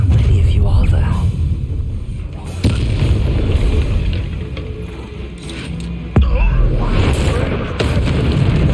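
Fiery spell blasts cast in Hogwarts Legacy on PS4: a loud, dense rumbling roar of flame with sharp bursts near 2.7 and 6.2 seconds, filling the whole stretch beneath game voices.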